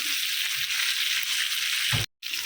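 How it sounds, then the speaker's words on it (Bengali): Potatoes frying in oil until reddish, a steady close hiss and sizzle with a crackling texture that breaks off abruptly near the end before resuming. "লাল লাল করে ভেজে নেব আলু"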